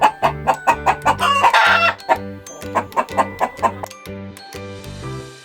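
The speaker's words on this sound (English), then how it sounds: "This is chicken." Chickens cluck in short bursts and a rooster gives one crow early on, all over a bouncy, repeating children's music backing.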